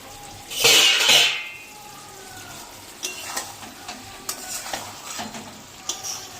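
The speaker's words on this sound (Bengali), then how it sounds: "ভালো করে একটু নেড়ে দিলাম" Fish curry stirred in a pan, opening with a loud burst of sizzling that fades, followed by a run of close, sharp spoon scrapes and clinks against the metal over a quiet simmer.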